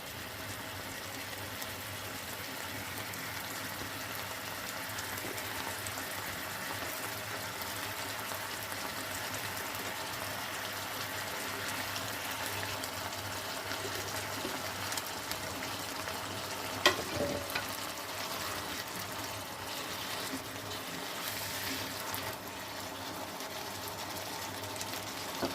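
Eggplant pieces frying in hot spiced oil give a steady, close, even sizzle that runs without a break. One brief clatter comes partway through, and no one speaks.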